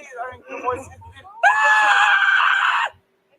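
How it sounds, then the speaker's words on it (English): A person lets out one long, loud, sustained scream after a few seconds of quieter vocal sounds, then stops abruptly into silence. "I think it was just me screaming."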